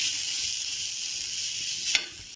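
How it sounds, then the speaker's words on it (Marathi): Onion with ginger and garlic paste sizzles in a pan as a steady, close hiss, quiet and unbroken, with one brief scrape of stirring near the end and no voices. "कांदा, आलं लसूण हे थोडं आपल्याला गुलाबी रंग येईपर्यंत परतायचं आहे।"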